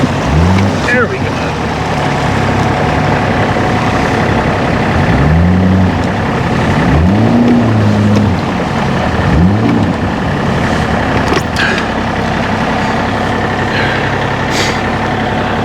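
A tractor engine, just pulled from a river, rumbles and revs in several rising and falling surges over steady background noise, close and loud.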